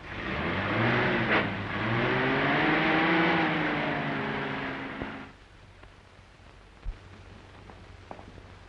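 A 1930s car engine hums steadily under a passenger ride for about five seconds, with a low rumble and a wavering tone, then drops to a quiet idle with a few soft knocks.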